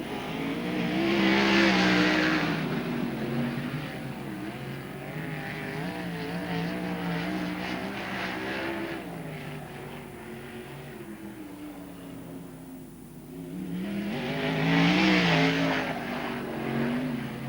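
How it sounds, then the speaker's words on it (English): Sprint cars race flat out at Archerfield Speedway in Queensland during a 2000/01 Australian title event, their engines swelling loudly as cars pass near, fading in the middle, then roaring close again. "Don't you love it when they stand on the throttle through 1 and 2?"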